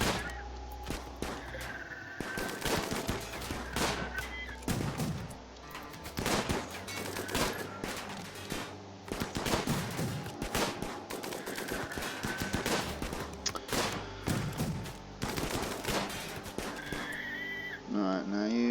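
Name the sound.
gunfire during shooting practice in the video game RimWorld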